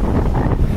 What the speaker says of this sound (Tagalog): Hangin, lakas ng hangin, kaya hindi tayo makapag-video ng maayos.